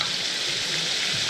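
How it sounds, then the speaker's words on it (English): Steady, loud sizzling of food frying in a hot pan, a constant crackling hiss with no voices. "this sizzling is very loud"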